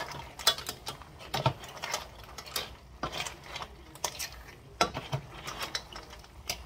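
Linguine tossed with clams in a pan produces an irregular, fairly quiet clatter of shells knocking and scraping against the metal.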